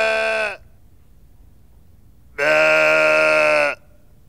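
A person imitates a sheep bleating, two loud nasal bleats, a short one and then a longer one after a pause, with near silence between them.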